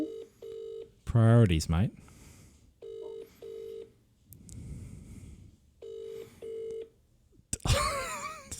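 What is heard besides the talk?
telephone dialing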